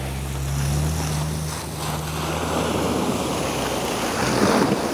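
A Lada Niva off-roader pushes through water, giving a loud continuous rush and surge of splashing with a low engine drone underneath and wind buffeting the microphone, no talk.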